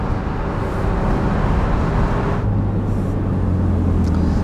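A 2011 Porsche 997 Speedster accelerates on the Autobahn, its engine a loud, continuous low roar blended with heavy road and wind noise inside the cabin, rising in pitch partway through.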